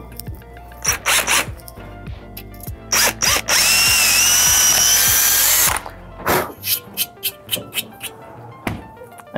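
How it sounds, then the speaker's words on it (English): A power drill with a small bit bores a pilot hole through a freestyle scooter deck during foot fender installation: short trigger bursts, then a sustained high whine as the bit cuts through, followed by more quick pulses close by. "you're gonna wanna start with a small drill bit and then work your way up."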